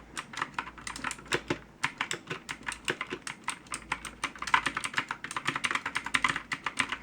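Steady, fast typing on a Pictek TKL gaming keyboard, with dense clacking keystrokes in an uneven rhythm, close and clear, and no voices.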